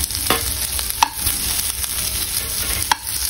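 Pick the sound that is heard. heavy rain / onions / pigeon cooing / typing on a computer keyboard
onions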